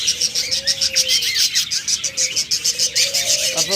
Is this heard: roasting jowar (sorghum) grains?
no